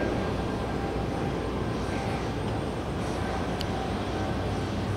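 A jet airliner at JFK airport takes off, giving a steady, loud broadband roar that holds evenly throughout with no other sounds on top.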